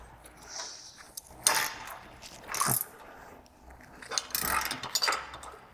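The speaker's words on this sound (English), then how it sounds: "And tighten the bolt down." A bolt is tightened down with a ratcheting tool on a winch arm, a short series of close mechanical clicks and metallic rasps in separate bursts, with no talk.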